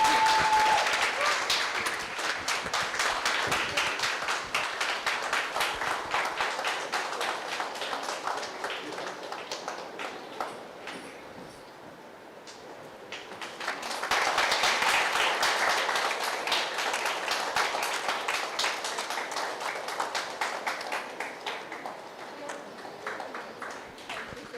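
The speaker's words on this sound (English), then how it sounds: "She deserves a louder round of applause." Conference audience applauding their coordinator, sustained clapping that fades briefly to a lull before a second loud swell of clapping resumes.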